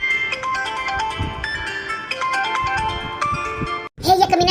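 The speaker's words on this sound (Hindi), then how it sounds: "झिनकवा के बप्पा का फोन आवत है।" A mobile phone ringtone signals an incoming call, playing a loud, close melodic electronic tune with repeating note patterns for several seconds before cutting off, followed by a brief burst of other sound.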